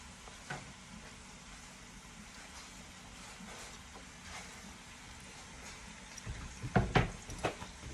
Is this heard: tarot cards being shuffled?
no